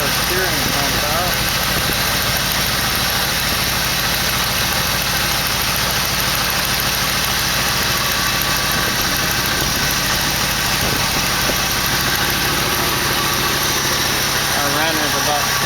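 A 1968 AMC 401 V8 running at a high idle, giving a loud, steady, close engine drone with constant rumble and no pauses for the whole stretch.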